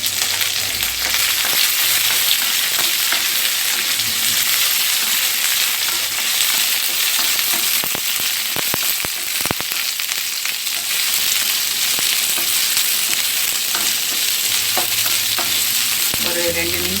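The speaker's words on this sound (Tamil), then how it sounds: "அப்புறம் அரிஞ்சு வச்சுருக்கிற வெங்காயம் போடணும். அது கொஞ்சம் வணங்கணும்." Chopped onions sauté in a hot, oiled pan while cooking for Thuvaram Paruppu Sambar, a steady loud sizzle with occasional scraping stir sounds throughout, no voices.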